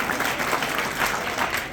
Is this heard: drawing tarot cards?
no